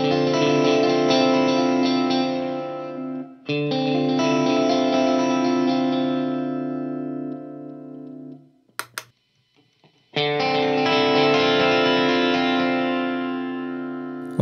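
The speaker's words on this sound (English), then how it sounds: "So these are the default settings of the Euclidean delay, and this is what happens when you play them." An electric guitar is played through a Line 6 POD GO with the Euclidean delay at default settings plus reverb, giving loud sustained chords with rhythmic repeating echoes. The sound cuts out briefly partway through, then resumes with another strummed chord.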